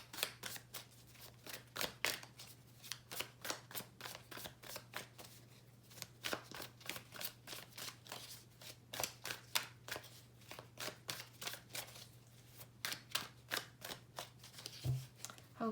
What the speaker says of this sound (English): let me go ahead and shuffle the cards and get centered